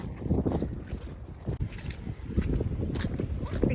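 Cold, damp wind gusting across a flooded farm, a loud rough buffeting rumble with irregular gusts throughout the clip.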